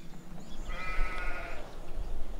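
Sheep bleating in Sid Meier's Civilization V, a single wavering bleat rising out of steady background game ambience and music near the middle.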